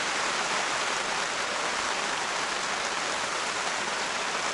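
Rain falls hard and steadily on a tent at a fishing camp, a dense, unbroken hiss that stays loud and even throughout with no voices.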